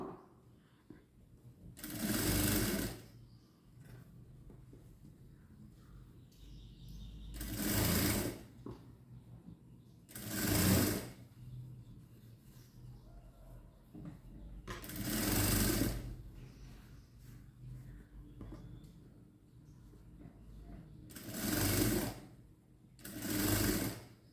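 Blouse lining cloth stitched on a sewing machine, with six loud, evenly spaced bursts of rapid motor-driven stitching separated by quiet pauses and faint handling sounds.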